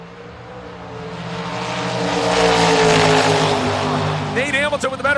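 Dragster race cars launching side by side down a drag strip at a Halloween weekend bracket race at SGMP, a loud rising engine roar that swells and then fades, with an announcer talking over it.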